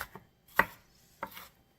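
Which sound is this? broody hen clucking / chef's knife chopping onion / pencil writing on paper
chef's knife chopping onion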